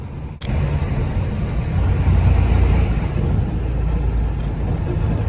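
Steady low rumble of a truck's diesel engine running nearby, with one sharp click or knock near the start, then a constant idling drone without speech.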